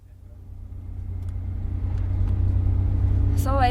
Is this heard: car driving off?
yes